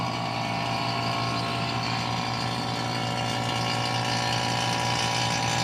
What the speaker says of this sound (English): fire up the vacuum pump